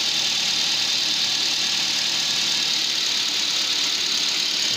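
A car engine idling after a cylinder-four misfire fix, heard close as a loud, steady, even running drone with no talking.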